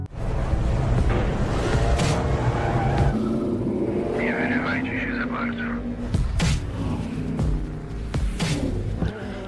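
Sports cars, including a BMW M3 and a Ford Mustang, race through an underground basement tunnel, engines roaring loudly and steadily with sharp tire squeals and skids, while music or dramatic sound plays underneath.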